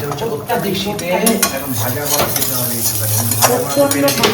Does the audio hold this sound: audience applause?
no